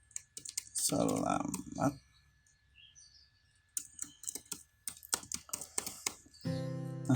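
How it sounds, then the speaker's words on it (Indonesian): Computer keyboard typing in Photoshop comes in quick clusters of close clicks, split by a short gap, while a voice speaks briefly over part of it. "Untuk kita ketikkan dulu"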